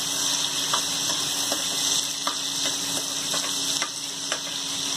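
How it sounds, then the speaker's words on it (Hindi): Two spoonfuls of dal frying and browning in a pan for upma, a steady close sizzle with occasional light clicks of stirring throughout. "दाल डालती हूँ 2 चम्मच। इसको ब्राउन करूंगी।"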